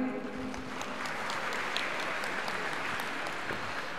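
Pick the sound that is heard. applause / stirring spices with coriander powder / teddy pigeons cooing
applause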